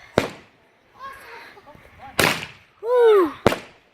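Fireworks going off outdoors, three sharp bangs spaced about a second apart, with excited voices and a shout between the blasts.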